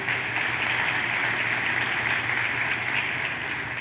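Audience applause fills the room steadily, a dense, even wash of clapping from many hands that holds at a constant level throughout with no break and no talk over it.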